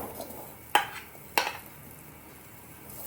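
Mashed potato is dropped into a pan of samosa masala, giving two sharp clatters of a spoon against the pan over a faint background sizzle, with no voices.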